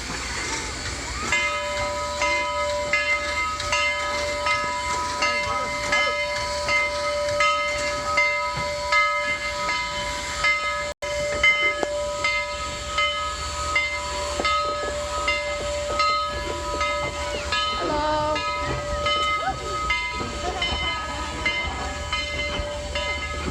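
A steam train standing nearby hisses continuously with loud, steady escaping steam and a sustained whistle-like tone, filling the scene from start to finish.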